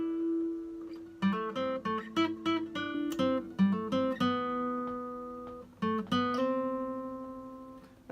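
Guitar plays the intro riff of a song, a run of clear plucked notes with slides, close and unaccompanied, then the last notes ring out and fade.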